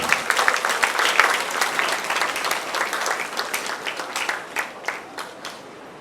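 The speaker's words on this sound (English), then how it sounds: "They deserve a big round of applause." A crowd claps steadily, loud at first and thinning toward the end as fewer hands keep going.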